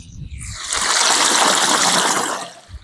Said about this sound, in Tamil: சூப்பரா இருக்கு தண்ணி சவுண்டு.